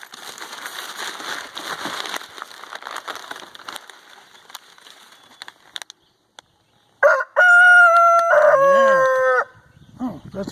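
After several seconds of rustling and handling noise, a Barred Rock rooster nearby lets out one loud, drawn-out crow that rises and then falls away.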